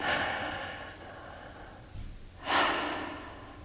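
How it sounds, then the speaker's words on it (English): Soft breaths during a seated meditation, a long, gentle airy exhale fading out, then a brief quiet pause followed by a fuller, louder breath, close to the microphone with no talking. "just breathe the breath that feels natural to you"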